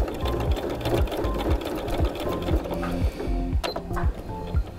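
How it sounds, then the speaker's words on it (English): A sewing machine stitches an envelope-style book cozy, its needle chattering in fast, even bursts that stop and restart, loud and close with no voices. "We're gonna put it back on the machine, lock our stitch,"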